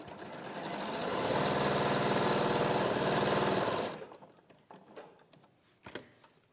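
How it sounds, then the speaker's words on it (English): A sewing machine stitches an eighth-inch seam in a rapid, even mechanical whir for about four seconds, then stops, leaving soft clicks and small handling sounds of fabric. "you're going to sew with just an 1/8 of an inch seam just to secure it into place"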